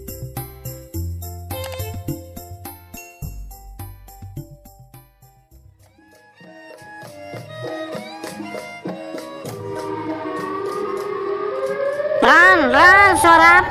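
A loud siren, likened to an ambulance, rises out of a jumble of musical tones and builds to a wailing, warbling sweep that grows louder toward the end, filling the clip without talk.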